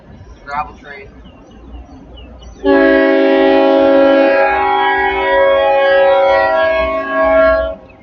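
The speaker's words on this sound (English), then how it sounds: "Alright, that's a Union Pacific train." A loud, sustained horn from a passing Union Pacific gravel freight train blares for about five seconds, close by and dominating, after a brief quieter stretch of rumble and faint voices, in Navasota, Texas.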